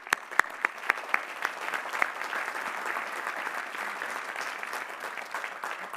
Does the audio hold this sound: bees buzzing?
no